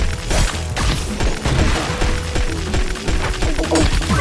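Frosty Fangs weapon in Pixel Gun 3D fired at a fast rate in a 3v3 match, a dense, steady stream of rapid shots and impacts filling the whole stretch, loud and continuous, without any talking.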